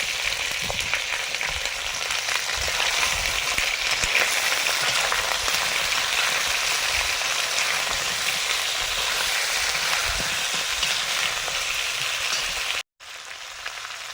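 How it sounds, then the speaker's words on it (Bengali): Mixed vegetables for chorchori frying in a pan with ginger paste and chillies, giving a close, steady hiss and crackle with occasional stirring scrapes. A brief dropout near the end cuts the sizzle, which then resumes. No talk. "এবার সব সবজিগুলো আমি একে একে দিয়ে দিচ্ছি"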